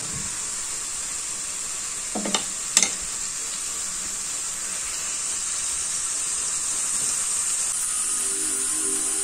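Herbal hair oil simmers and froths in a pan, a steady close bubbling hiss throughout, with a couple of brief knocks of a utensil near the start.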